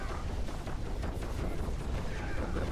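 Dense, continuous game explosions rumble and crackle in Diablo IV, a loud barrage of overlapping booms and bursts with no pauses.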